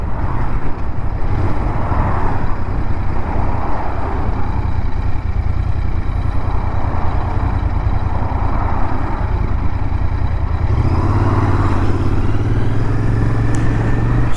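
An Interceptor motorcycle rides on a road, its engine a loud, steady, close drone that shifts to a higher, strained note near the end, with no talking.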